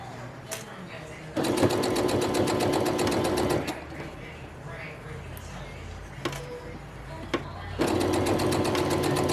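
A sewing machine runs in fast bursts of rapid stitching as stretched fabric for a bikini top is sewn, with loud steady runs broken by short pauses, and a voice talks throughout.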